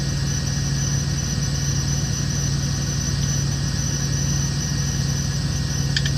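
A big truck engine idles with a steady low rumble and a constant hum, close and continuous, with a faint high whine above it and a brief rattle near the end.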